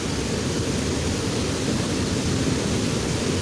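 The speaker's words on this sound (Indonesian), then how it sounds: "Ini kita siram sedikit agar tampak ya untuk akarnya." A steady, broad rush of water pours continuously, close and fairly loud, with no breaks or voices, as the roots of a white amplas bonsai stock are watered.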